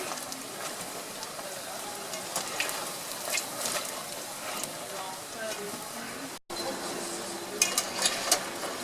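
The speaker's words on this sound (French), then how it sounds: "on les laisse cuire simplement 3 minutes. Vous voyez, ça cuit très très vite en fait" Churros deep-frying in a fryer give a steady, dense sizzle and crackle with occasional louder pops, continuous throughout with a brief dropout near the end.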